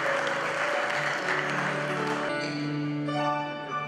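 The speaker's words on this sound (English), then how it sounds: "Let's enjoy and clap for everyone who are controlling." Applause from a graduation audience, dense clapping that fades after a couple of seconds into music with sustained tones.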